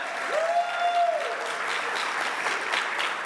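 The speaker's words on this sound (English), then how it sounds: "More applause to Walmart." A luncheon audience applauds a corporate partner, a full, loud wash of clapping from many people throughout, with a brief whistle rising and falling over it early on.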